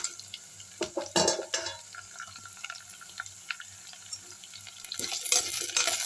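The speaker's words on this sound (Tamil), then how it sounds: "இதில் இந்த நெத்திலியை போட்டுப்போம் இதோடு சேர்ந்து வதங்கட்டும்" Dried anchovies sautéing with onions in a pan, a low crackling sizzle broken by clattering scrapes of a spatula, louder bursts near the start and end, close by with no talking.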